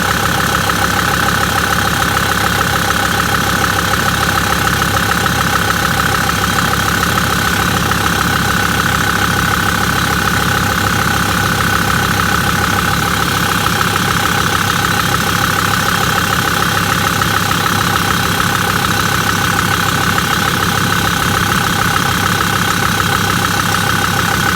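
A Mercedes Sprinter van with a P299 turbo underboost code idles steadily after a turbo actuator swap, giving a continuous close engine drone with a faint knocking texture that runs unchanged the whole time, with no talking.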